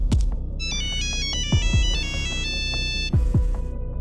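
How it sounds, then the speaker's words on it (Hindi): A phone rings unanswered in a cartoon story, its electronic ringtone playing a repeating melodic pattern of bright tones over soft rhythmic thumps, near and steady. "माँ फोन क्यों नहीं उठा रही?"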